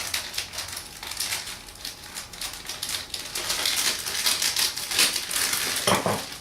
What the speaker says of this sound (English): You just cut them out of the packet.